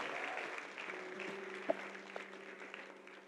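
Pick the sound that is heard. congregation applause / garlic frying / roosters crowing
congregation applause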